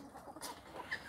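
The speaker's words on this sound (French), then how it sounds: "4 poules et un coq" Four hens and a rooster cluck softly in a short, faint burst of a few quick calls against quiet background noise.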